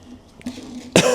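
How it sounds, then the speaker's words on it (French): A single sharp cough from a person who is unwell bursts out near the mic after a brief quiet stretch with faint low hum, loud and abrupt at the end. "Il se peut que dans la vidéo, je tousse, je renifle et tout le bordel."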